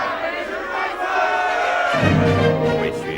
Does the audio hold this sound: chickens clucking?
no